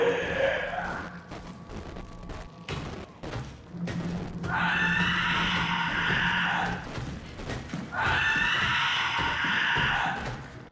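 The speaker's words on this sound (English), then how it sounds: "He's just screaming and running away." A creature in Soma's safe mode screams in two long, loud, strained shrieks between heavy thudding footsteps as it runs away.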